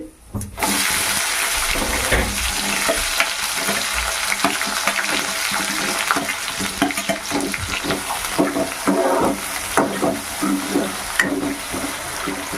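Green chillies, onion and cumin seeds frying in hot oil for a potato curry, giving a steady, loud crackling sizzle with scattered pops and stirring scrapes throughout, and no talk.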